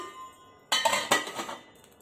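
Two clattering metallic clanks close by, a lid set down onto a pot of pinakbet with a brief rattle before settling, in an otherwise quiet room.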